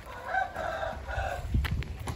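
Indian Çapar chickens in a coop give clucks and a drawn-out crow-like call, fairly close and moderately loud, followed by a few brief knocks and rustles.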